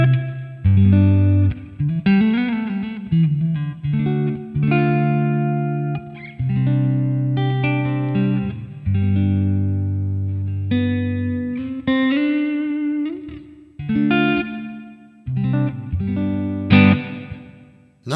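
Guitar played through the plate reverb of a Hotone Ampero Mini effects unit: distorted chords and single notes ring out in phrases, each with a lush, shimmering tail that hangs between strums, with no speech.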